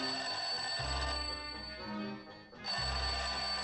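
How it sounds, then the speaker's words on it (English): An old-fashioned telephone rings in an old time radio drama, two long loud ringing bursts separated by a short gap, with no voices. "Sounds like the phone to me."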